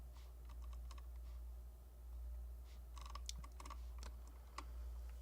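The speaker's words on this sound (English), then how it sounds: "What am I typing up there," Computer keyboard typing during a coding practice session, with soft scattered key clicks building into denser bursts of keystrokes over a steady low background hum.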